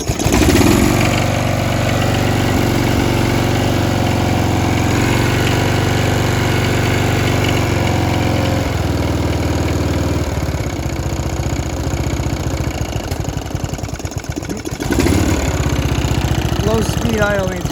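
A Briggs & Stratton engine on a Snapper RER rear-engine riding mower runs loud and close at a steady idle, with a small dip in pitch partway through and no voices.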